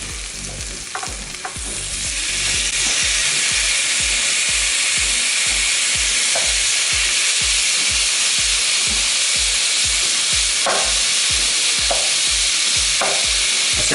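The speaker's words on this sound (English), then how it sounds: "let that continue to sizzle while we cook the steak" Onions and steak sizzle loudly in a frying pan, a steady close hiss that swells after the first couple of seconds, broken by occasional scraping stirs with a utensil and no voices.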